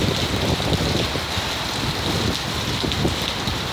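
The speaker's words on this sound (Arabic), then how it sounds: "أمطار غزيرة جتنا قبل شوية ولسه المطر مستمر" Heavy rain pouring steadily on a street in Al-Wurud district of Jeddah, a dense continuous wash of falling water with a faint wind-like hiss and no voices.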